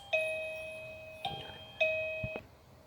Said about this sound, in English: so we have the doorbell back here